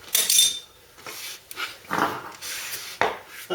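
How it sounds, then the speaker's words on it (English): Steel toe cap boots knock and clunk in short irregular bursts near a vehicle during steering rack bush work, with clattering metallic hits and scuffs spread across a few seconds. "That noise is my toe caps"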